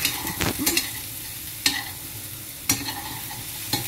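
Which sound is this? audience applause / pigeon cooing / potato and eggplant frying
potato and eggplant frying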